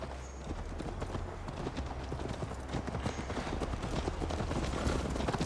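Steady clip-clop of horse hooves at a riding pace in Assassin's Creed Valhalla, close and continuous, with a faint low rumble beneath and no voices.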